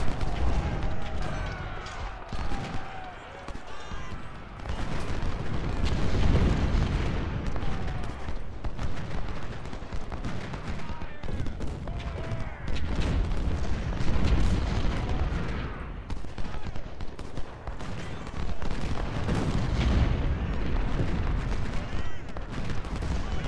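Cannon and artillery fire in the video game Ultimate General: Civil War at Chancellorsville: loud, rumbling booms and volleys follow one another almost without pause, with someone talking over the battle.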